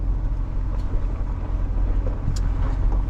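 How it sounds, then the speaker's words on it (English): A Ford Bronco crawls off-road in 4-low with the front diff locked and the sway bar disconnected, near Las Vegas, Nevada; a steady, loud low engine and drivetrain rumble carries throughout, with a few faint clunks and rattles. "We are driving the Bronco in 4-low."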